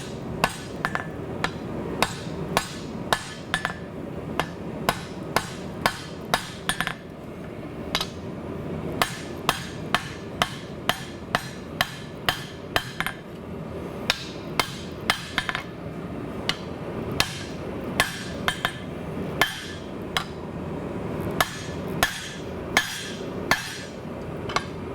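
A knife preform is hammer-forged on an anvil that shifts around as it is struck. Sharp metallic blows ring out close and loud in a long, fairly regular rhythm, sometimes in quick clusters, with a steady roar underneath.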